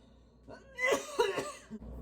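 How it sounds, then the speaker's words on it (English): A single short, harsh cough, with a couple of quieter throaty breaths around it, close and fairly soft. "Oh God, it hurts to cough."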